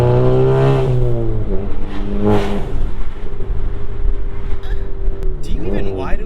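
A tuned Stage 2 EQT VW Golf Mk7 GTI engine revs hard at wide open throttle on the road, loud and close, its pitch climbing and dropping through gear changes.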